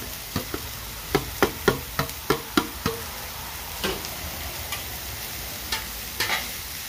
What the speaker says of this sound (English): Now, I'm going to add the onions early.